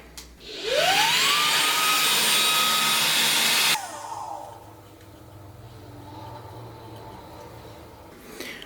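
A Jashen cordless vacuum cleaner on high power spins up with a rising whine, roars loudly for about three seconds, then cuts off abruptly, leaving faint background noise.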